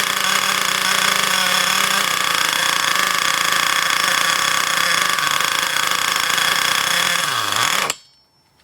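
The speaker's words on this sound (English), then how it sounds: "Listen to the engine. And then what we're going to do is increase the throttle a little bit" Ansmann Virus 2.0 radio-controlled car's big block nitro engine running in on the bench, a loud, harsh continuous buzzing rattle that sags in pitch before cutting out abruptly at the end.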